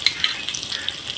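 Spices, fried onion and ginger-garlic paste sizzle in a pan for a ghugni made with chicken trimmings, a close, steady hiss broken by a few light stirring clicks of a utensil.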